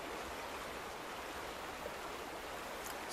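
Heavy splashing water in The Vanishing of Ethan Carter, a steady, dense rush of broadband noise like a strong stream, even and unbroken throughout, with no voices.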